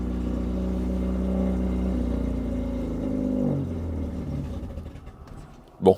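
An old French car engine, a Gauloise, idling and revving close by, a loud steady rumble that rises in pitch then settles lower, ending with a short sharp knock.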